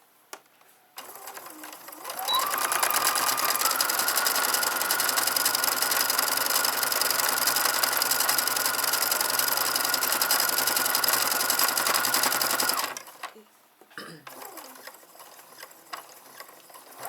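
A sewing machine stitching cloth bag handles, running steadily and close for about ten seconds with a fast mechanical whir, framed by short quieter stops and starts.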